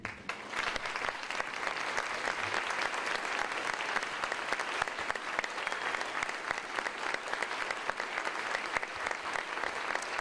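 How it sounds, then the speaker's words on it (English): At a nursing college commencement, a large audience claps steadily for the standing faculty, a dense, even roar of hands that holds for several seconds without pause. "give them a round of applause"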